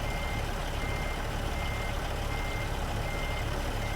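Reversing beeps from a truck in American Truck Simulator, a steady repeating warning tone over a continuous engine drone, loud and close with no talk.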